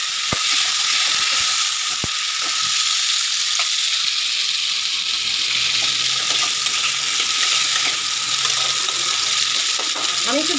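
Tomatoes with salt frying in a pan for a tomato pickle, a loud, constant bright sizzle with scattered ticks and clicks of stirring, close up and alone.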